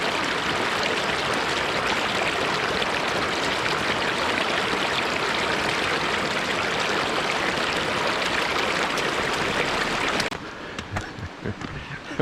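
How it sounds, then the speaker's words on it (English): Stream of water rushing across a flooded hiking trail near Heather Lake in shoulder season, a loud steady broadband wash close to the microphone, dropping slightly at the end with a few knocks. "this is supposed to be the trail and it's a friggin' river"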